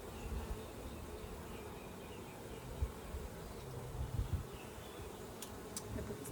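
Honeybees swarm around an open beehive frame, making a soft, steady buzzing hum with a few brief knocks and bumps, faint and close.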